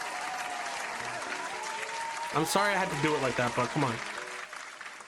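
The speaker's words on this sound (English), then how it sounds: "So round of applause" Applause from a crowd at a live talk, a continuous patter of clapping behind someone speaking loudly over it in the second half.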